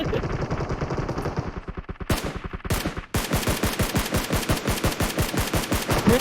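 Automatic weapon fire in PUBG Mobile, a steady rapid stream of loud, evenly spaced shots that breaks off briefly near the middle and then resumes at the same fast rhythm, close and dominant with no talk over it.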